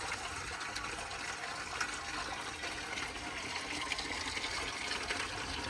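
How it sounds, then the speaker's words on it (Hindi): Water pours steadily into a container for cows at a farm, a continuous broadband rush and trickle close by, with no talking over it. "पानी भर रहा है, पी लो।"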